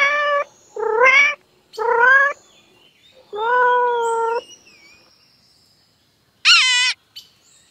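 A cat meows several times in a row, clear separate calls with gaps between them, ending in one sharp, higher-pitched cry.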